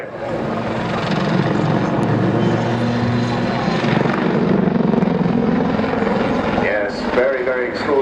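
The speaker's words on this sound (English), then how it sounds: "A very strong, quite a heavy helicopter for its class" A Lynx helicopter roars overhead during an air display, performing a backflip, with a loud, continuous rotor thrum and engine whine, its pitch shifting as it maneuvers; a voice speaks beneath the noise.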